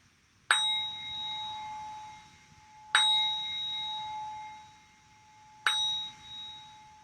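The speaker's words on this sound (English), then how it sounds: "follow the sound of the bowl and be curious about how long you can follow the sound" A bowl is struck three times, each strike ringing out in a clear sustained tone that slowly fades before the next, in a quiet room.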